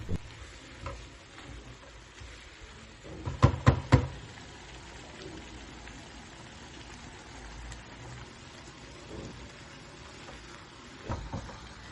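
Vegetables with seasonings sizzle softly in a pot, a faint steady crackle interrupted by a few sharp clinks of a utensil against the pot and some quiet stirring.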